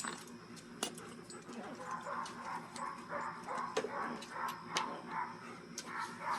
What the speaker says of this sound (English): Someone's dog's not too happy.